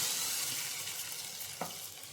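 Hot tempering with curry leaves poured into an okra, dal and mango curry, a soft steady sizzle fading slightly over two seconds, with one brief knock of a utensil.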